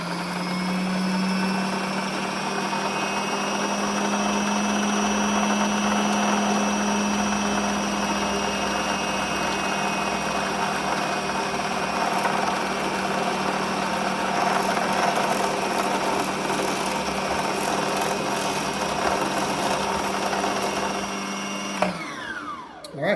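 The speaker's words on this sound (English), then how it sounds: "Now, it's going to spool until it actually stops." A Brother XR3774 sewing machine winds its bobbin with a steady, loud motor whir held at constant pitch for about twenty seconds before cutting off abruptly near the end.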